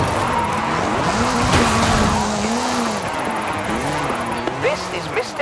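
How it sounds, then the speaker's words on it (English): Ford Focus RS RX rally car with a 2-litre turbocharged front-mounted engine and all-wheel drive, driven in the Forza Horizon 5 racing game: a loud, continuous engine whine rises and falls through revs, with tire squeals near the end. "Hoonigan Gymkhana 10 Ford Focus RS RX. 2-litre, turbocharged, front-mounted engine and all-wheel drive."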